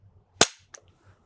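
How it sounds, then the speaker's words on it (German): Rifle bolt slamming shut as a magazine is slapped in on a shooting range, one sharp loud metallic clack followed by a softer click. "dann wird jetzt der Verschluss schließen"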